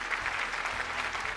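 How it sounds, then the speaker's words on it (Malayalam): Full audience applause on a TV show, a thick, continuous burst of many hands clapping at steady loudness with faint crowd murmur underneath. "അതിൻ്റെ ഒരു പ്രതീകമാണ് ഈ നിറഞ്ഞ കയ്യടി"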